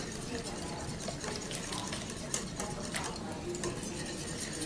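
Continuous stirring and scraping of a utensil in a bowl of crepe batter, a steady swishing texture with occasional light clinks.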